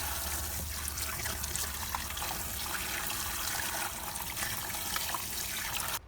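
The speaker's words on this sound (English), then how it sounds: "If the leaves feel slimy, wash them extra well until completely clean." Napa cabbage leaves being washed under a running tap, a steady close trickle and splash of water that continues throughout before cutting off at the end.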